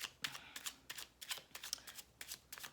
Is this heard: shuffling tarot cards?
yes